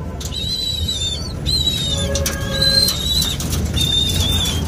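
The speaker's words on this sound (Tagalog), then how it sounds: "So eto lang ang mga ating ibon dito sa ating baratang kulungan." Birds kept in a cage give high, repeated whistling calls over a soft bed of low background noise, with short bursts of fluttering and a few clearer tones close by.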